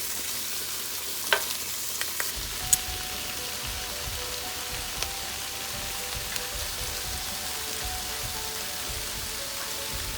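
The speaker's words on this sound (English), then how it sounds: "I'm going to go ahead and put my bok choy in." Bok choy frying in a hot pan with garlic, giving a steady close sizzle and crackle throughout with a few sharp clatters early on.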